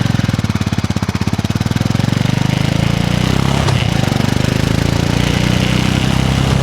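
A cold carbureted motorcycle engine runs loud and close with a rough, pulsing idle that chugs unevenly at first, then settles into a steadier drone after a brief stumble partway through.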